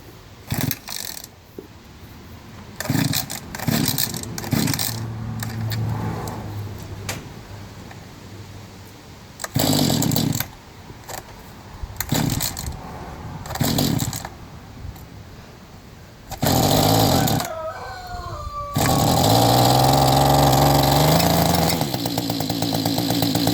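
Echo TC 2100 tiller engine, choked and set to start, gives several short bursts from pull attempts, then catches near the end and runs loud and steady up close.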